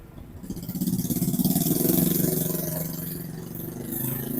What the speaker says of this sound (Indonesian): Di depan ada suara motor yang kencang banget.